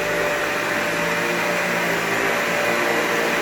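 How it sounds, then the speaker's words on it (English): A Dyson Ball vacuum cleaner runs on a rug with its brush roll spinning, giving a loud, continuous whooshing roar with no gaps. "you can hear the brush roll is definitely on."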